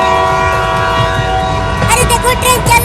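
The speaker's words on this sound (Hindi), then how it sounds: "अरे देखो ट्रेन चलने लगा।" A train begins moving out of a station, a loud, continuous rumble with sustained horn-like tones and rising clattery bursts toward the end.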